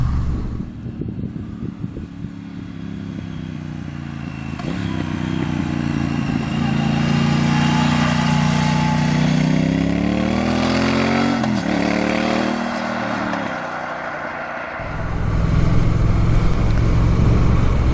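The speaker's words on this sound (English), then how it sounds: "So the engine on this bike, so we're obviously running a 1200cc twin" The 1200cc twin-cylinder engine of a 2018 Triumph Thruxton R motorcycle runs steadily and loudly close by, its pitch rising and falling as it revs, with wind noise throughout.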